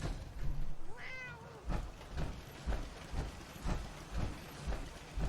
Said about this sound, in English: And look, it's a cat.